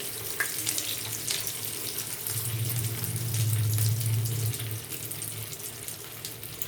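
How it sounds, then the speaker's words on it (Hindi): Bread snacks deep frying in hot oil over a medium-low flame, a steady bubbling hiss that swells louder in the middle as pieces go in, then settles back. "अब हम इसमें इन्हें फ्राई कर लेते हैं।"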